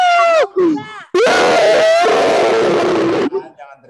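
Children screaming at a kids' church service: a few short cries, then a long, loud, sustained group yell lasting a couple of seconds before trailing off.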